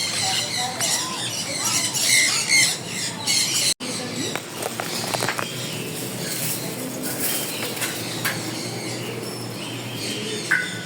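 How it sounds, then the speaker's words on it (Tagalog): Many birds call and squawk at an indoor biodome, a busy chorus of chirps and shrill squeals over steady background noise. "Daming bird."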